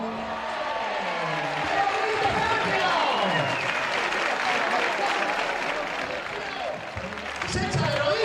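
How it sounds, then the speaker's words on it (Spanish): A crowd ovation at a village festival in Losar de la Vera, Cáceres, a sustained roar of clapping and cheering with an announcer talking excitedly over it. "¡Fuerte ovación para Pascual!"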